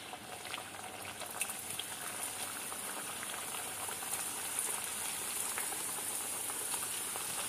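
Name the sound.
puri frying in hot oil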